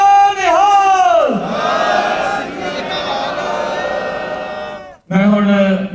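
A crowd at a Sikh parade in Sacramento roars the jaikara response in unison, a loud sustained collective shout that swells, holds for several seconds, then breaks off before a fresh burst of shouting begins.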